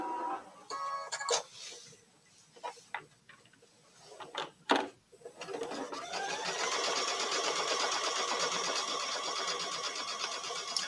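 Sewing machine running automatically as it stitches sashing pieces into quilt blocks, starting after a few scattered clicks and taps, then settling into a steady, fairly close mechanical whir with a rapid rhythmic stitching beat.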